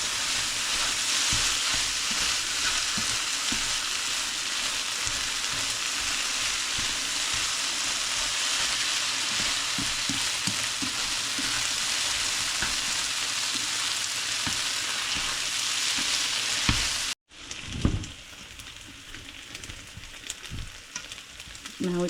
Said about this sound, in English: saute our eggs in with our noodles